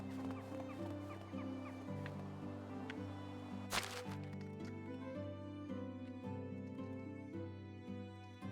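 Hens clucking inside a hen house in the video game Medieval Dynasty, scattered soft clucks and calls over low ambient game music, with a brief sharp burst midway, all fairly faint.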